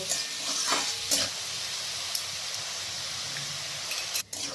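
Ginger and garlic paste sizzles in a pan with mutton, a dense, steady frying hiss punctuated by occasional scraping stirs.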